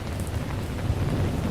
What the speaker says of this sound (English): you never heard a racket like a downpour on a tin roof